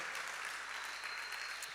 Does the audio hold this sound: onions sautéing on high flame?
no